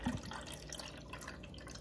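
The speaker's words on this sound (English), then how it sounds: "you're simply gonna pour your water in the outside" Water poured from a container into the outer can of a homemade ice luminary mold, a soft steady trickle and splash, faint and continuous without any voices.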